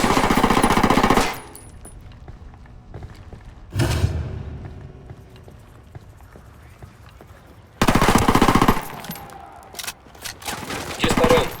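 Automatic gunfire in the video game Ghost Recon Wildlands comes in loud, rapid bursts: one at the start, a short burst near four seconds, and a longer sustained stretch toward the end. Quieter gaps fall between the bursts, with faint voices in them.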